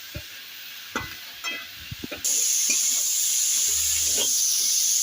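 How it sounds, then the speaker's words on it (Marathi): Moth beans sautéing in oil with spices give a few close stirring scrapes and knocks over a low sizzle, then a sudden, louder hissing sizzle takes over and holds steady. "मटकी मी छान अशी तेलावर परतून घेतलेली आहे"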